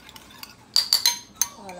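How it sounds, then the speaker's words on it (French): Yeast being stirred into water for homemade pizza dough, heard as a few quick clinks of a utensil against a bowl with brief mixing sounds in between, fairly faint and close with no talking. "Je mets la levure dans de l'eau pour mixer pour que ça se mélange bien dans la farine"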